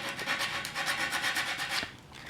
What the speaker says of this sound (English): I always take a piece of sandpaper and just do some very light finish sanding